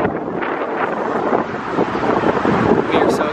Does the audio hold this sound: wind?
yes